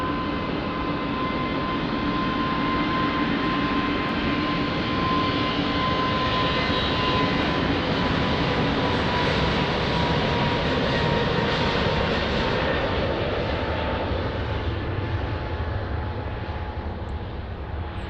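Airliner taking off from runway 20 at Lisbon Airport, a loud, steady jet engine roar that holds strong and continuous throughout, broadband and sustained with no talk over it.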